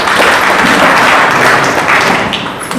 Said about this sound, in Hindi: अरे वाह, ताली बजाइए